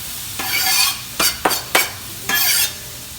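Garlic and onions hiss and sizzle in a hot pan in several separate bursts, with brief stirring sounds between them, close up and with no talking.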